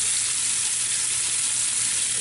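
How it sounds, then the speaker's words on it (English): Loud, dense frying crackle from short ribs searing in hot oil in a Dutch oven, heard up close and continuous for a couple of seconds, no talking. "See, we got a nice sizzle."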